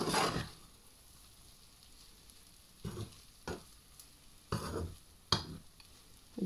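Omelette made with spaghetti and bacon bits cooking in a pan, a soft steady sizzle broken by several sharp scraping stirs of a utensil, close and fairly quiet.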